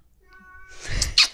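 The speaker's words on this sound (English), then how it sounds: "Kitty." A cat gives a single short meow, rising and nasal, close by after a moment of near silence.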